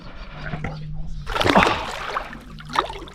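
A big giant trevally released back into the coastal water makes a close splash and slosh, with a voice talking around it and a smaller splash near the end.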